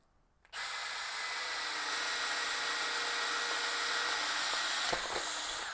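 A DeWalt Xtreme hammer drill with a 3/8-inch chuck bores through wood with a self-feed bit at low speed, a loud steady whine starting abruptly and running continuously close by, with a brief knock near the end.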